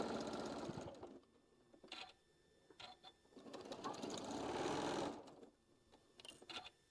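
A sewing machine stitching across a quilted table runner, running in several bursts of rapid mechanical chatter with short pauses between, close and moderately loud, no talking.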